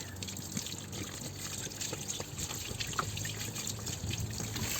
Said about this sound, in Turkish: Şurada aşağıda bir yerlerde krank sensörü var. Oraya su döküyoruz.